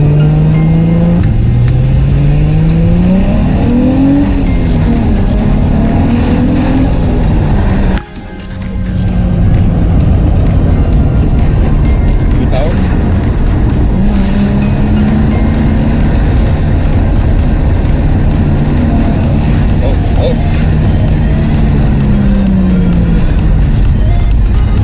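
Infiniti G35 engine running steadily as the car drives, a loud continuous drone with rising and falling pitch as it revs, briefly cut around eight seconds, then droning on.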